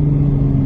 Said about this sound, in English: You can just hear the GR engine too.